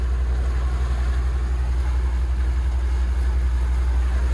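A Volvo Penta KAD300 285 hp engine on a Doral Monticello boat cruising at about 1,000 RPM near 5 knots, giving a steady, deep, low hum that stays even and continuous throughout.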